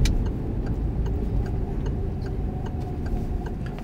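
A car's turn signal indicator clicks in a steady, evenly spaced rhythm inside the cabin during a driving lesson, faint over the low rumble of the running engine.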